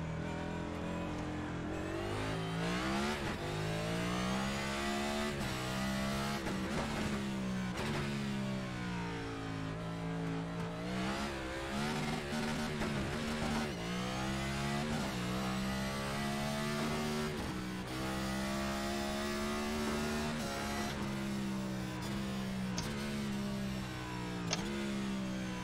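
A race car engine in the iRacing sim revs up and down through the gears on track, with a loud, continuous whine that rises and falls repeatedly and has no talk over it.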